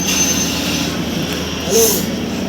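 A train rumbles into Mubarakpur station on platform two with a steady, loud roar and a brief metallic wheel squeal near the end.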